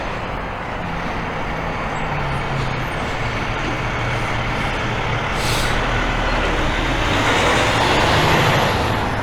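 Heavy truck traffic, including a FedEx truck, rumbles past on a street near a school in a steady broadband roar, swelling louder toward the end as a vehicle draws near.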